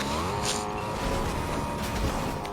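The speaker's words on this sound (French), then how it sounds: "C'est embêtant de conduire, elle accélère pas cette voiture." A sluggish car in a video game drives with a steady droning engine note that holds at one fairly loud level, with a light hiss of tires and no talking.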